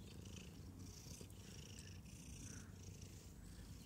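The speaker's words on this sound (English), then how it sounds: "I found the most attentive cat ever." A cat named Megzy purring close up, a soft, steady rhythmic rumble that continues evenly throughout with no voices.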